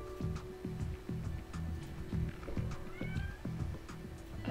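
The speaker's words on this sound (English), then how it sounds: "No, kitty. Go away." A cat meows repeatedly in the video game Elizabeth Find M.D. – Diagnosis Mystery, a steady run of short, close cries over a quiet background without speech.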